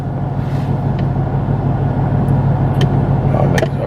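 A 2018 Ford Mustang GT fitted with a Vortech supercharger cruises steadily, its low engine drone and road rumble continuous and loud throughout, with faint brief clicks on top and no talk.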